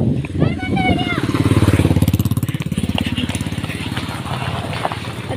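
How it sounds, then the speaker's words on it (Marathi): A small motorbike idles at a farm, its engine putting out a close, loud, steady pulsing throb that swells slightly midway and then settles. "बाईक चालू आहे"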